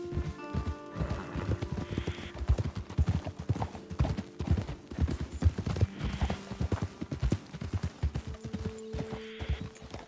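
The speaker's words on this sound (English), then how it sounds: "Okay, let's dismount here. Best leave the horses back a bit." Horses clip-clop along a trail in Red Dead Redemption 2, a dense, irregular patter of close hoofbeats across the whole stretch, with occasional tonal whinny-like sounds and game ambience mixed in.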